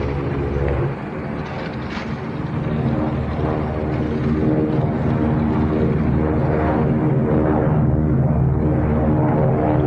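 A propeller airplane engine drones loud and continuous near an airfield, a steady throbbing roar that holds throughout with no voices over it.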